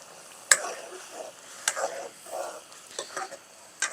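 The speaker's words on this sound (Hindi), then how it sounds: "अब इन तमाम चीज़ों को हमने ऑयल में अच्छी तरह भूनना है।" Spices and red chilli powder fry in oil for a fish curry, a soft sizzle broken by sharp clicks and scrapes of a spoon stirring the pan at irregular intervals.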